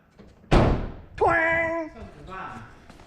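A car door slams shut once with a heavy, close thud on the side treated with Dynamat sound deadening, followed by a voice and a brief tonal ring fading out.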